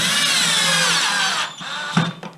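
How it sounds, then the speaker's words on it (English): A power drill whirs steadily at close range while replacing a Zip X5 gearbox, then cuts off and gives a couple of short bursts before stopping. "Again, not being too rough with the drill, just letting it sit back"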